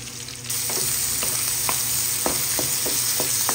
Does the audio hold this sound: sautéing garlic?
yes